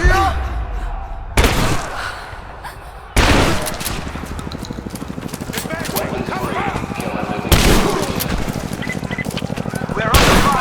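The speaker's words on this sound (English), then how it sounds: "We're under fire at the edge of the village" Gunfire in Rise of the Tomb Raider: sharp isolated shots, then a long stretch of rapid automatic fire with loud bursts, mixed with other game sounds.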